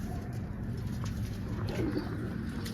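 Pigeons cooing in a loft, soft low repeated coos against a steady background hum, faint and somewhat distant.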